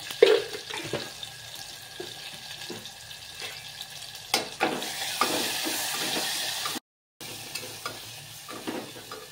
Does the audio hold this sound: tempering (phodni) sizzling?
yes